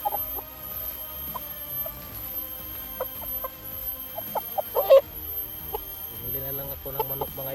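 A chicken bought as an offering clucks in short, scattered bursts close by, with a louder squawk partway through, over a quiet background.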